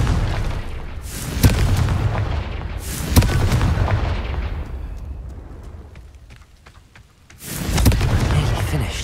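In Hogwarts Legacy, the Confringo fire spell blasts vases apart. Several loud booming explosions land a few seconds apart, each trailing off into a rumbling decay.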